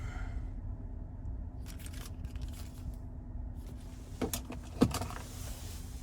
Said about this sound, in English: here's our key fob with remote start